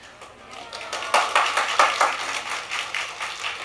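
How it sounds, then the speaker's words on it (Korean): An audience at a church mothers' prayer meeting claps to welcome a guest professor to the stage. The sparse, moderately loud claps build after a quiet start and continue steadily. "우리 교수님 나오실 때 큰 박수로 맞이해 주시기 바랍니다."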